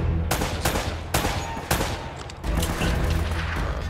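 Dense bursts of gunfire from Uncharted: Drake's Fortune, with rapid overlapping shots and booming volleys that fill the whole stretch, loud and continuous.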